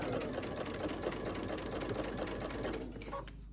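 A sewing machine stitches steadily around a piece of fabric, a close, even mechanical whir that runs unbroken for a few seconds before easing slightly at the end.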